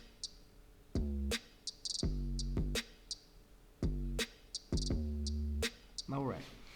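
Hip-hop beat playing back with a hi-hat and snare over deep bass notes: punchy, rhythmic hits with sharp crisp ticks and sustained low tones in a repeating groove, clear and unaccompanied by talk.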